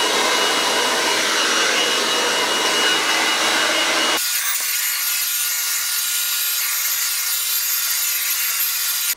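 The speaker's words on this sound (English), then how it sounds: "I have it on a medium heat setting, you don't want it too hot" A hairdryer on a medium heat setting blows steadily with a loud airy rush, then shifts to a thinner, hissier tone halfway through and keeps running.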